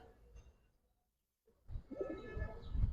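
Hurricane and Giribaz pigeons cooing quietly, a soft murmur that fades to near silence before louder, closer coos and rustling return.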